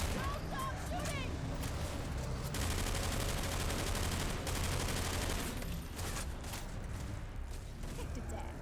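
Sustained gunfire aimed at a Tank in modded Left 4 Dead 2, a dense continuous roar of shots with voices talking over it and a thinning of the firing near the end.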